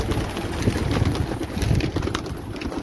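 Pigeons in a breeding loft coo steadily after feeding, a throaty rolling murmur up close with scattered shuffling and wing movements, no talking.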